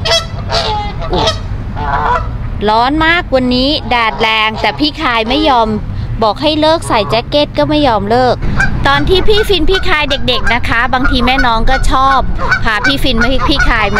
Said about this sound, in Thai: โอ้โหเป็ดนี่เสียงดังจริง